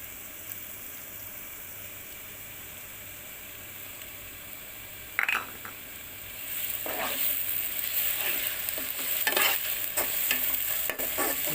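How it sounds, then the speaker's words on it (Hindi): Garlic and ginger paste added to lightly browned onions in a pan for a spicy fish curry, heard as a steady sizzle that grows louder with bursts of stirring and scraping, no voices. "ये मेरे प्याज हल्के ब्राउन हो चुके हैं, ये देखें। ज़्यादा शौक नहीं करने। अब इनमें लहसुन और अदरक का पेस्ट 2 चम्मच"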